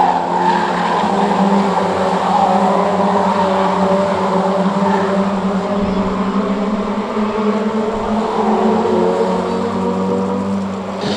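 Stock rod race cars lapping the Cowdenbeath Racewall oval, a steady loud roar of several engines with tyres skidding and squealing through the bends, sustained throughout with no talk.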